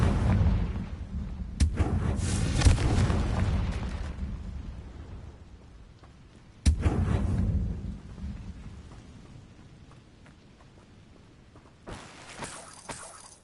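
Confringo fire blast spell cast in Hogwarts Legacy: three heavy, booming blasts strike with sharp onsets about five seconds apart, each rumbling and decaying into a long low roar, the first the loudest.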